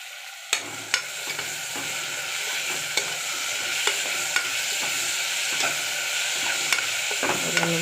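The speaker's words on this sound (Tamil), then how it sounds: "ஒரு 2 நிமிஷம் தக்காளி வதங்கட்டும்" Tomatoes are sautéed in a pan with mint and coriander for a vegetable biryani. They give a continuous sizzle and frying hiss, broken by regular spoon strokes and scrapes about every second, with no talking.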